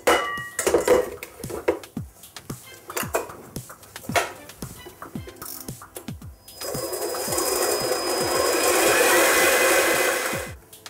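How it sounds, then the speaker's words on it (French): Egg whites and sugar are whisked at full speed into a glossy meringue, first with rapid clinking strokes against a bowl, then a steady high mixer whir building over the last few seconds. "on va fouetter le tout vitesse maximum pour les monter un peu façon meringue"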